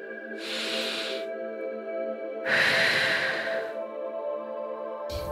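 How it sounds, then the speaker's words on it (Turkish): Deep breaths drawn and released during a guided spiritual meditation, two long airy exhalations close to the microphone over a steady soft music bed, with a brief third breath starting at the end. "Derin bir nefes alın,"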